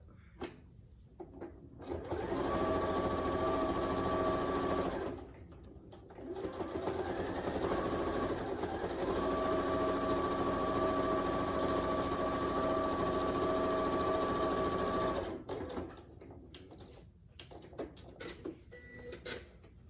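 Sewing machine stitching a quilt-as-you-go Christmas stocking, running in two steady bursts with a short pause between them, close and clear with no talk.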